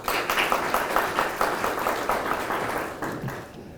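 Audience applauding for a high school principal at a JROTC military ball, a dense burst of clapping that holds steady and then tapers off over a few seconds.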